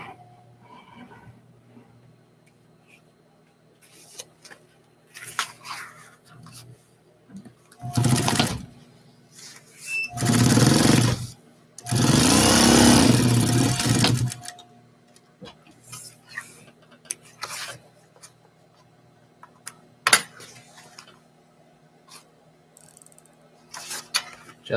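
A sewing machine stitches a double hem on fabric in short runs of whirring, mechanical clatter, with one longer burst in the middle and quiet pauses and handling clicks between.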